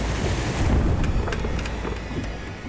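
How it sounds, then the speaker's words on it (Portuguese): Large Atlantic waves slap and wash against the hull of a sailboat at sea, a loud continuous rushing roar with wind buffeting the microphone. "Ondas grandes batiam nas laterais do barco."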